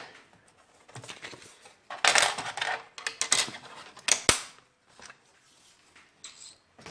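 Small scissors snipping paper for a 2018 planner, a few crisp irregular cuts close by, loudest in two short bursts with quiet gaps between.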